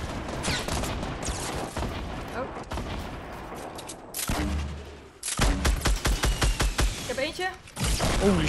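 Gunfire in the battle royale game Fortnite, loud and rapid bursts of shots and crackling fusillades, briefly dropping to a lull before another intense rattling volley, with occasional voices of players talking.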